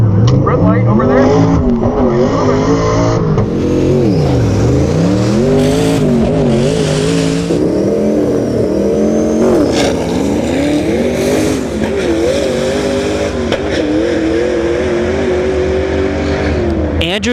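A Tesla Plaid and a twin-turbo pickup truck drag race side by side, engines and motors rising and falling in pitch through repeated accelerations, loud and continuous, with talk over the roar.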